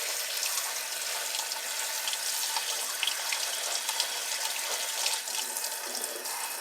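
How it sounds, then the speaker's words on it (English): Tap water runs steadily into a cold press juicer being cleaned, a close, continuous hissing splash that stays even throughout with no talking. "now I'm going to run the water in here."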